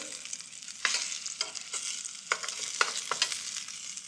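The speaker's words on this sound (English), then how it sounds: "This time I'm not as interested in browning those vegetables, just cooking them until they're tender." Vegetables cook in a hot pan with a steady frying hiss, broken by several louder scraping stirs at irregular moments; close and clear, with no voices.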